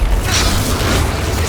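A Bombarda blasting spell goes off in the video game Hogwarts Legacy, a loud, dense burst that rumbles on through the whole short stretch.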